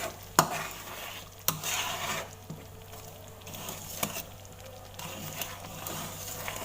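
Rujak sauce for old-style Bangka rujak stirred in a pan over low heat, with soft scraping strokes and faint sizzling, quiet and close, with occasional sharper clinks.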